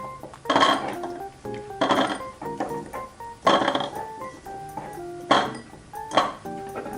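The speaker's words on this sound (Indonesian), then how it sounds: "Langkah pertama, kita haluskan semua bumbu-bumbunya" Spices for pempek cuko sauce, including chili and dried shrimp with salt, being ground: about five separate rounds of clinking, ringing strikes and scraping, close and clear, with quiet pauses between them.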